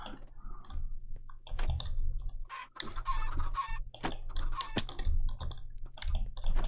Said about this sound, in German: Prof hat Spaß mit Hühnern.